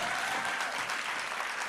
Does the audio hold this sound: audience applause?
yes